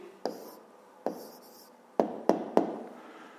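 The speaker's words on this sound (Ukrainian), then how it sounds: "Записуємо відповідь" A pen jots an answer on paper: five crisp, close strokes and taps, the last three in quick succession, over a hushed, quiet background.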